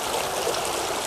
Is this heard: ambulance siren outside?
no